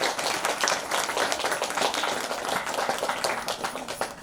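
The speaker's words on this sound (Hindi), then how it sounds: "तो जोरदार ताली बजाया जाए अंकुर जैन जी के लिए।" An audience at a festival event claps for Ankur Jain, producing dense, continuous applause that stays steady throughout with little talk.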